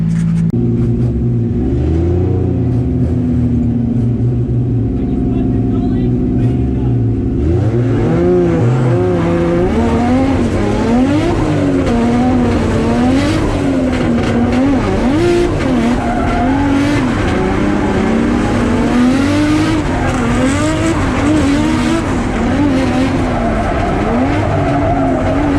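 Drift car on a practice lap at a DCA event in Mount Gambier, engine revving hard in repeated rising and falling waves with sustained tire squeal, loud and close, steady idle before it launches around eight seconds.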